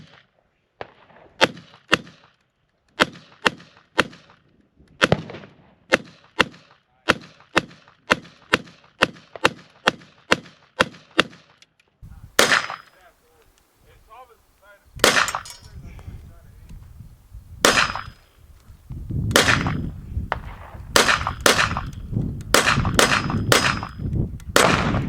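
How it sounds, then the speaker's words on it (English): Smith & Wesson M&P 5.7 pistol firing 5.7×28mm rounds at 1/2 inch AR-500 steel: about twenty sharp, evenly spaced shots with ringing impacts, outdoors and close, followed by a pause, then talk mixed with a few more shots. "After I shoot this magazine, I'm gonna do 1 magazine of armor piercing rounds."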